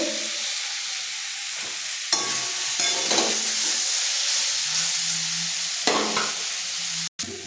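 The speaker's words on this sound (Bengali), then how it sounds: "হালকা ভাজা হয়ে গেছে, আর একটু ভালোভাবে ভেজে নেব" Steady loud sizzle of pointed gourd frying in mustard paste, with repeated scraping stirs of a spatula against the pan and a brief clatter near the end.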